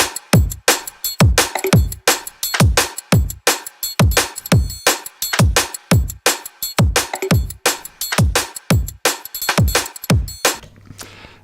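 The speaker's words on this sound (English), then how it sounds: "The break we've got playing in the background sounds like this." Looped drum break playing in Bitwig, sharp kick and snare hits in a fast, busy, evenly repeating pattern, loud and upfront with no voices.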